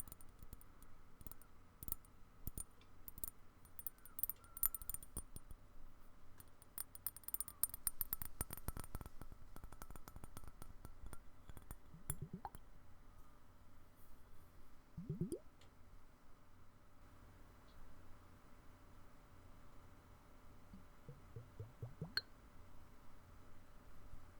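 Soft taps on a water globe and gentle liquid sloshing inside, close and quiet, with a few small plops and drips spread out over a hushed background.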